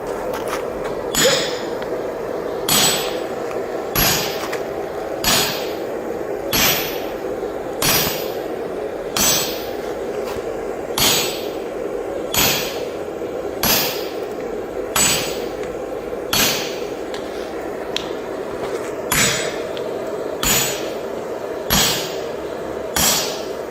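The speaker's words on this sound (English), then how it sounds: "So this is peening it out, yeah?" A forged Viking Dane axe being peened with a hammer at a forge, a long series of sharp ringing metallic blows falling in a steady, evenly spaced rhythm, close and fairly loud.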